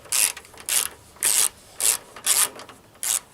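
Ratchet driving a 7mm socket to loosen headlight fasteners on a Pontiac G6, six short crisp clicking bursts close up and alone, with no talk.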